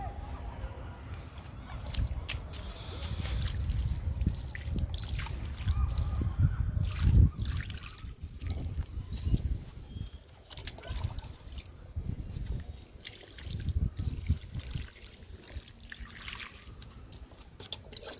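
Water splashing and trickling into six garden plant tubs freshly sown with cluster bean, ridge gourd and bitter gourd seeds, in uneven pours, fairly close, with soft low rumbles and shuffling around it.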